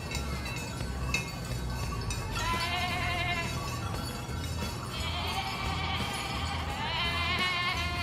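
Actors dressed as sheep imitate sheep in a stage performance, voices giving drawn-out wavering bleats that come and go over a steady background murmur, with faint glassy clinks in between.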